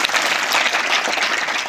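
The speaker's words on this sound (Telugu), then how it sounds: "మీరు చప్పట్లు కొట్టాలి." Steady, dense applause from a group at a summer karate camp held at a Kasturba Gandhi girls' school in Kodangal, loud and continuous throughout with no speech.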